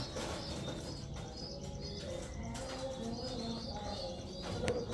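Pigeons on a farm, ice pigeons among them, give soft cooing and faint chirps over a steady, busy coop background, with occasional wing flutters and no talk.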